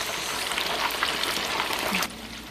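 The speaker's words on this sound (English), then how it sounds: "We're just frying these for the Escovitch fish" Steady, crackling sizzle of fish frying in hot oil for Jamaican escovitch fish, close and continuous, dropping slightly quieter near the end.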